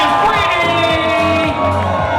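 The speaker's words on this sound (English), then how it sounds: "I want to hear one more huge round of applause for Mike and Kara, Mr. and Mrs." Wedding guests at a reception cheer, whoop and shout loudly as a crowd. The noise is close and continuous, with voices rising over one another.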